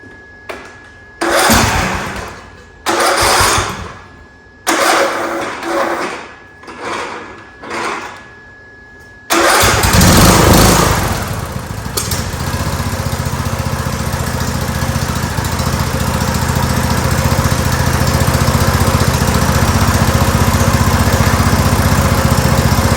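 Craftsman YT3000 lawn tractor engine cranking in several short grinding attempts with pauses, then catching and settling into a loud steady rough idle that continues to the end.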